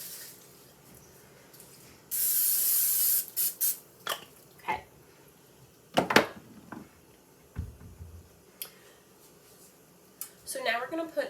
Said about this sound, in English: I do use cooking spray to spray my pans